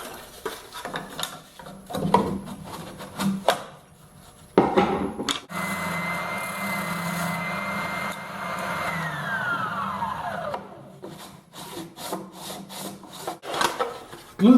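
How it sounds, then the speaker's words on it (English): An oscillating spindle sander enlarging holes in plywood pieces: short rasping sanding bursts at first, then a steady whirring run for several seconds that winds down, followed by more intermittent close grinding. "I use my oscillating spindle sander to enlarge the holes in these plywood pieces"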